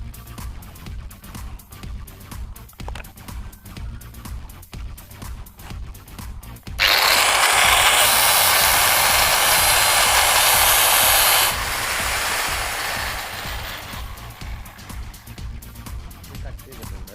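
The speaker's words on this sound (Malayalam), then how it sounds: "ഒരു ഗ്രൈൻഡർ ഉപയോഗിച്ച് ഹാൻഡിൽ കട്ട് ചെയ്യാം." An angle grinder cuts through an old bicycle handlebar, giving a loud, steady, hissing metal-cutting whine that runs for about five seconds, then eases to a slightly lower tone and fades out. Background noise surrounds it before and after.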